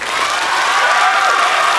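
An audience at an anniversary celebration event applauding and cheering, a loud, dense burst of clapping with shouts mixed in, sustained throughout.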